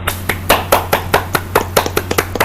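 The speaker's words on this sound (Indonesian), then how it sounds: "tepuk tangan dulu buat kelompok 1" Rhythmic clapping in a classroom peer-teaching session for a student group, about a dozen sharp, evenly spaced claps from a small group, close and loud over a steady low hum.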